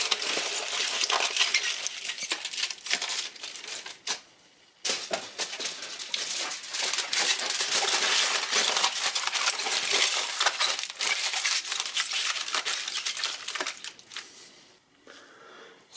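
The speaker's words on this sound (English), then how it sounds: "So I put just aluminium foil just on top of it." Aluminium foil crinkling and rustling as it is pressed over a turbo and crankcase breather on a 1.6 HDi/TDCi diesel engine, close, crisp and continuous with short pauses.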